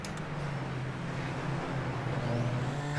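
A Super Formula Lights open-wheel car locks its brakes hard at Long Beach in iRacing. The engine drones steadily and close while a faint squealing rises near the end, with no talk over it.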